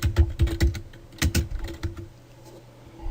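Keys clatter on a computer keyboard in quick bursts of close, crisp taps, pausing briefly before a final few strokes, with no voices present.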